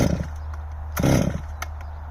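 A STIHL m5261c chainsaw engine runs loudly nearby, a steady droning growl with a brief rise in revs partway through.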